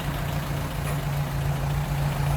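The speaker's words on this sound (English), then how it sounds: "nice smooth running little inline 4" A 1928 Willys Whippet Model 96 sedan's small 134 cubic inch two-liter inline four-cylinder engine idles smoothly and steadily, a close, constant low hum with no voices.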